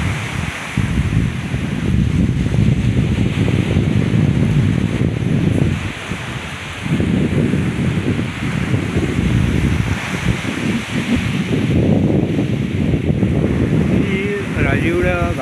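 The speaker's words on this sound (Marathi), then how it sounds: "मी आता भाटे बीचवरती उभा आहे" Sea waves roll in at Bhatye beach in Ratnagiri, a loud, constant roar of surf and strong wind buffeting the microphone, with a brief lull and a voice heard now and then.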